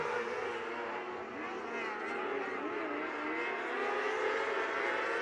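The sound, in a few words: micro sprint race cars accelerating at race start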